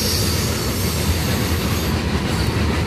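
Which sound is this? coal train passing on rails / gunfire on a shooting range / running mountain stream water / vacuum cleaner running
coal train passing on rails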